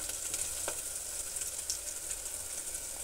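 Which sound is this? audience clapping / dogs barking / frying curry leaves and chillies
frying curry leaves and chillies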